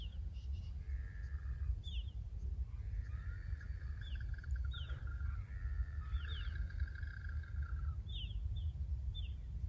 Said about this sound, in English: beautiful sound of birds.